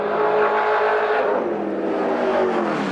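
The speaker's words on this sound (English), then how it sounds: "Working the V8 Commodore hard." A V8 Holden Commodore touring car engine roars loudly and steadily on a mountain circuit, holding high revs with a slight dip in pitch midway, no voices.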